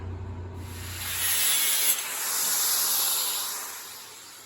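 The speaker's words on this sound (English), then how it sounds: "So I'll cut it back there at the muffler" A steady, close hissing and rasping cut runs through a Dodge Ram 2500 truck exhaust pipe at the muffler, swelling and easing over a few seconds, with a faint low hum at the start and no talking.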